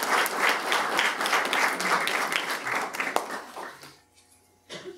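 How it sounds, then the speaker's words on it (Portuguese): A lecture audience breaks into steady applause to welcome the speaker. The clapping is dense and fairly distant, then fades to near silence before a short burst returns at the end. "é com muita alegria que nós vamos pedir a todos para recebermos o nosso Dr. Vander Lemos com uma salva de palmas"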